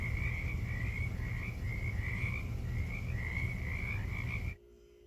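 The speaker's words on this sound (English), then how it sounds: "As you heard frogs, that's right." Outdoors in the Pacific Northwest, a chorus of frogs croaks in a steady, rhythmic pulsing at moderate distance, the dense calling running without a break until it cuts off abruptly at the end.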